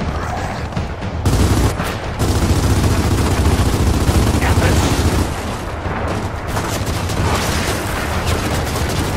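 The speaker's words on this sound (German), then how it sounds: "Aber was ist das Schießen hier?" Gears of War 4 gunfire rattles in loud, sustained bursts of automatic shots with heavy booms, nearly continuous for several seconds with a short gap near the start and a dip partway through.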